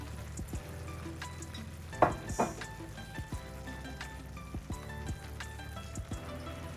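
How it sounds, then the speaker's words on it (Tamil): Green chillies fry in paneer gravy in a pan, giving a soft, faint sizzle and bubbling with a couple of brief clattering knocks near the start. "இப்போ அடுத்ததா நான் வெட்டி வச்சிருக்கிற இந்த பச்சை மிளகாயை நான் இதுக்குள்ள போட போறேன்."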